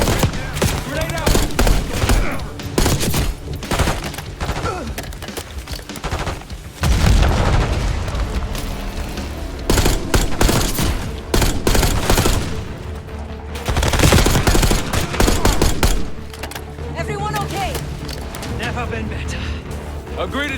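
Call of Duty Black Ops 6 combat at a bridge, with dense overlapping gunfire and heavy booming blasts from a grenade explosion, loud and continuous while soldiers shout over it.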